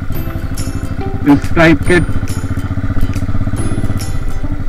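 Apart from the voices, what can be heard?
cafe racer motorcycle riding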